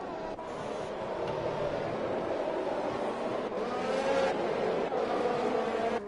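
F1 race cars battling for position at the Mexico circuit in F1 2021, a continuous loud engine roar with passing surges and a hint of tire squeal, no talking.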